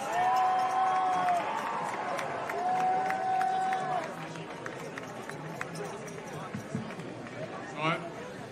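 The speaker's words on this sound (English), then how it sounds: "So if y'all would give a great round of applause and a cheer for Mayor Ron Nirenberg." A crowd at the Fiesta opening in San Antonio applauds and cheers, a broad wash of clapping and whoops swelling then fading, with amplified voices and whistles over the top.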